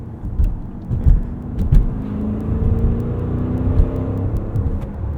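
Maserati Levante Trofeo, a 2019 590 hp SUV, driving in sport mode with the exhaust baffles open, heard from inside as a steady low engine rumble that swells slightly with throttle, no talk over it.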